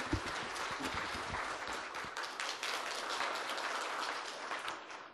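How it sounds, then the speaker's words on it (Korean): Audience applause at a culture session of the Jeju Forum fills the space, steady dense clapping of a seated crowd held at an even level throughout, with no speech over it. "큰 박수 부탁드릴까요?"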